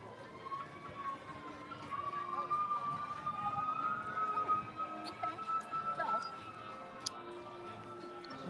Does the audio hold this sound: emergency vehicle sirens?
yes